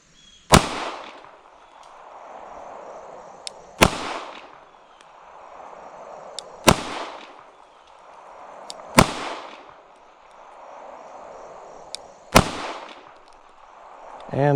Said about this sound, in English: we're going to keep shooting here a little bit